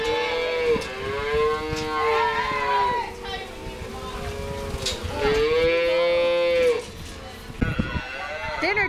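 Dairy calves moo loudly and repeatedly at feeding time, calling from a large group fed together on a dairy farm milking 1,000 cows, with long overlapping bawls and a voice narrating over them.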